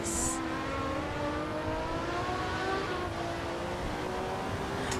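A Ferrari engine drones in Assetto Corsa at the Nürburgring Nordschleife, sustained and rich in harmonics with a slight rise and fall in pitch, carrying steadily from a distance throughout.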